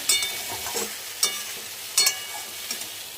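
A spice mixture sautéed with fried potatoes in a pan, catching on the bottom, with a steady close sizzle broken by several scraping stirs, two of them louder.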